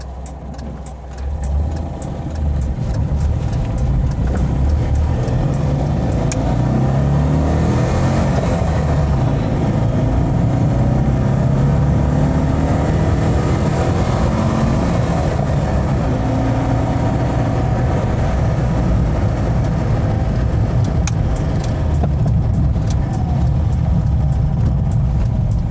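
A low-mileage 1983 Citroën Visa Spécial with a twin-cylinder engine drones steadily while being driven, its revs rising and falling at a constant loudness, with no talking throughout.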